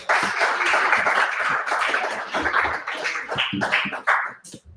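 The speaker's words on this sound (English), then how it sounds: "Once again, Chloe Collins, give her a round of applause." A round of applause at a high school basketball broadcast honoring a player of the month: dense, loud clapping from a crowd fills the clip, breaking up and tapering off near the end.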